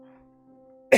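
A person coughs once, sharply and close, at the very end, after a stretch of quiet steady hum.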